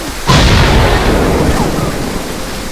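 A loud booming explosion in the video game Mini World bursts in suddenly, then a long rumbling roar of debris and noise that slowly fades.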